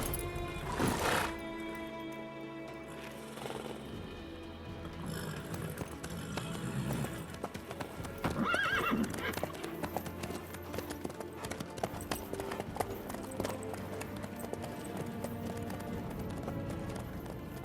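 Hooves clip-clop steadily at a gallop in The Witcher 3, with a horse's neigh rising briefly near the start and a game soundtrack layered under it.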